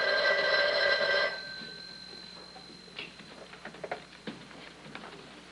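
A telephone in a 1959 crime drama, a bell ringing for about a second, then a faint tone and scattered clicks and taps as the handset is handled, all close and fairly quiet.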